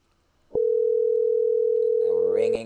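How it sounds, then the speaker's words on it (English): A steady electronic tone on a phone call holds unbroken for about two seconds after a click, and a voice begins speaking over it near the end. "It's ringing."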